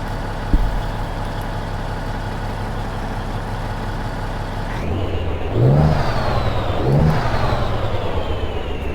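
Truck engine in Euro Truck Simulator 2 with the ProMods mod, a steady low drone that rises in two distinct revving swells near the end, close and loud with no talk.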